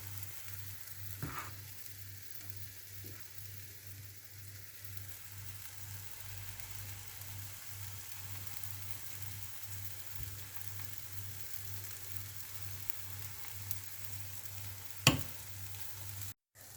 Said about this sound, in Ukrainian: будемо смажити з двох сторін до золотистої скоринки.